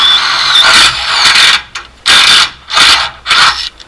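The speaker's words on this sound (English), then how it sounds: "You want to put your drill straight." A drill bores a hole in a screen door, revving loudly in four bursts of grinding, squealing whir separated by short pauses.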